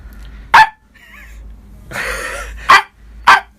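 A man imitates a dog with three loud, sharp woof-like barks spaced about a second apart, close to the microphone, with a brief whine and a short noisy vocal burst between them.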